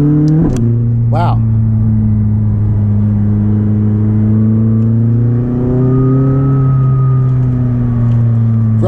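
A McLaren 600LT engine drones loud and close as the sports car accelerates along wet, twisty roads, the steady exhaust note climbing gradually through the gears before easing off near the end.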